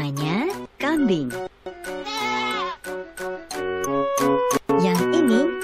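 Cartoon goat bleats in a toddler animal-naming game, several wavering calls over bouncy game music, while someone speaks in Indonesian between them.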